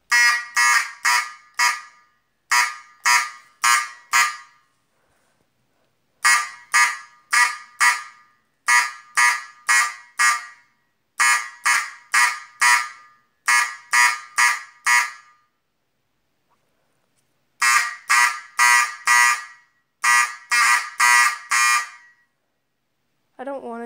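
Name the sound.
fire alarm system test, code 4444 pattern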